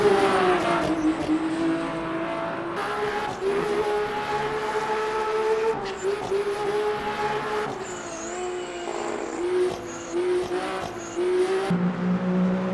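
Race cars in Le Mans Ultimate during the 24 Hours of Le Mans, with GT3 and LMP2 machines, roar past in a continuous high engine drone that rises and falls with gear changes and passing cars, loud and unbroken.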